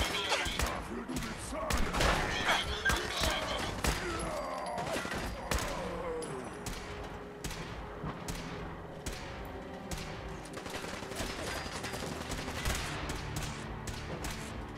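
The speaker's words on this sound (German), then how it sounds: "der kann doch schießen" Rapid gunfire from enemies in Fallout 4, with dense bursts of sharp shots and thumps sustained throughout.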